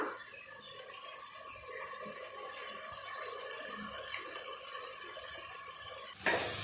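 A spoon stirs a spice paste into vegetable biryani made with parboiled rice in a pot, giving a steady wet, squelchy mixing with faint liquid sounds throughout and a brief louder knock at the end.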